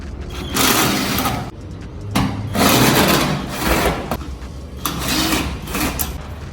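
Cordless drill driving screws out of a Maytag MDG20MNWGW dryer during disassembly, close and loud, in several bursts of whirring motor whine separated by short pauses.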